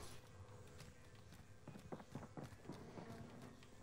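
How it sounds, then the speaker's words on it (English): Faint footsteps run across the floor of a building in Call of Duty Warzone, a quick run of soft, irregular steps that sits low under the game's background noise. "I heard footsteps."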